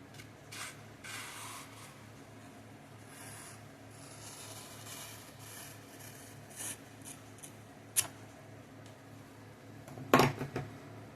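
A Kershaw knife shaves curly wood shavings with soft, repeated scraping strokes, faint and close, ending in a sharper clack near the end.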